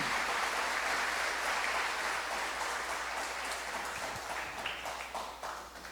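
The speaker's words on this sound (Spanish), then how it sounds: "Démosle un fuerte aplauso al Señor." A church congregation at a sermon gives strong, sustained applause. The dense clapping fills the room at a steady level over a low background hum, then thins out slightly toward the end.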